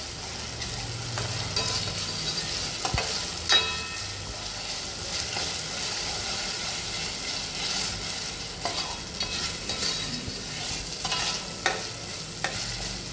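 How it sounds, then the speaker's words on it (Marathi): Onion and coconut paste sautéed in a pan for a fresh cashew curry, with a steady soft sizzle under repeated scraping and stirring strokes, close and continuous with no talking. "ते वाटण घालून घ्यायचं। ते पण छान परतून घ्यायचं।"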